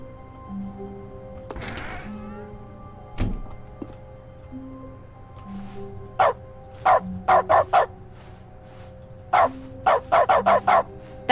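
Dog barks from the Stanley Parable video game's dog mode come in sharp, evenly spaced bursts, several quick barks in a row, following a few dull thunks and soft game tones earlier on, with no talking.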